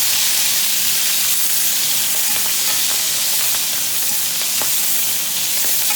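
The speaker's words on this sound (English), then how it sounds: "Scallions. Just give that good saute." Scallions sauté in a hot pan for tamarind duck, with a loud, continuous hissing sizzle throughout and faint stirring clicks; no voices.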